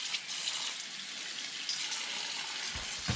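Hot tap water runs in a steady hiss and splash as homemade fideo pasta is rinsed in the kitchen, followed by a couple of faint thuds near the end.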